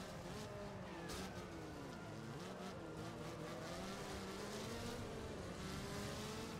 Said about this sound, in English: This little thing goes, listen to it. It's just continually throttling